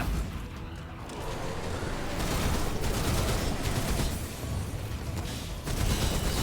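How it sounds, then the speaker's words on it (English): Gunfire from a Shrike enemy wielding a shotgun in the game Remnant, heavy booming blasts layered in a dense continuous barrage of battle noise with no clear gaps. "Does that Shrike have a friggin' shotgun?"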